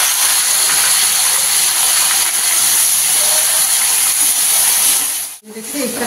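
Ground onion paste goes into hot oil in a pan, giving a loud, dense, close hiss that holds steady and then drops away abruptly just before the end.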